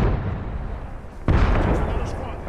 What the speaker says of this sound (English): Oh, we just got a grenade.